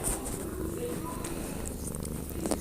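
A small kitten purring, a steady low rumbling hum held close to the microphone for nearly three seconds, with faint background noise and occasional light rustles.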